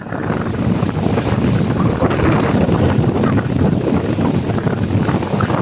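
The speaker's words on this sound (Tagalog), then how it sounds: "So narinig mo yung narinig mo yung hangin. Ang tindi ng hangin." Strong typhoon wind at Manila Bay, a loud, continuous roar buffeting the microphone with no letup, waves likely mixed into the rumble.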